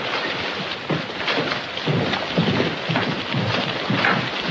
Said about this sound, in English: that depends on how long the storm lasts